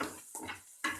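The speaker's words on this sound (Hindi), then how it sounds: "प्याज को भी हमें हल्का हल्का इसमें भून लेना है" Onions being sautéed lightly in a pan for veg Manchurian, heard as short bursts of clinking and stirring utensil scrapes with a soft sizzle between them, close and fairly quiet.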